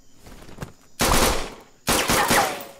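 Video game gunfire: after a few faint clicks, two loud bursts of rapid automatic fire, each about a second long, separated by a short gap.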